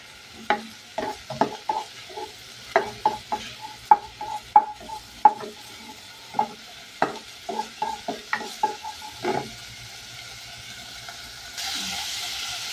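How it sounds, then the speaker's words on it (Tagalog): Garlic sautéing in a pan for chicken adobo, with a run of distinct, close scrapes and clacks from stirring over a soft, steady sizzle, easing off near the end into a broader hiss. "Yan, naigisa na yung bawang."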